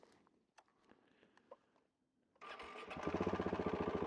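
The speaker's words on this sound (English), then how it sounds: "Get the bike started here." A KTM 690 motorcycle engine cranks and fires after a few quiet clicks and shuffles, then settles into a loud, steady single-cylinder idle with a rapid pulsing beat, heard up close.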